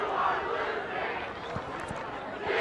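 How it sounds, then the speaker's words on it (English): Raucous crowd noise at a high school football game, a steady wash of distant voices and shouting from the stands, moderately faint and continuous. "Crowd quite raucous this evening, back and forth."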